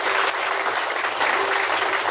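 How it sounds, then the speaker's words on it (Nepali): A gathered congregation at a Christian testimony meeting breaks into applause to honour a woman, a steady, full wash of many hands clapping at moderate distance, sustained evenly from start to end. "ताली बजाएर सम्मान गरौँ।"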